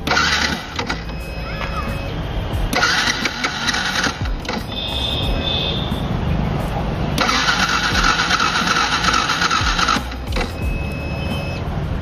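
A motorcycle with a normal, non-sports silencer being started: repeated mechanical starter cranking in bursts with whirring and clicking, loud and close, followed by a low running engine.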